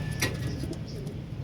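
Pigeons cooing softly in a backyard, low steady murmuring with one brighter call near the start, under a constant ambient hum.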